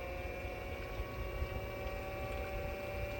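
An Aquastrong variable speed pool pump runs steadily at 2,000 RPM, heard from a few feet away as a low, even hum with faint tonal whine on top, alone and unchanging throughout.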